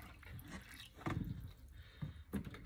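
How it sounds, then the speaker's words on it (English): Water runs into a watering can being filled with fertilized water for orchids, a soft, steady trickle and splash with a few louder gurgles, close but faint, no talking. "I'm gonna go ahead and fill my watering canister here with some of the water for the fertilized water"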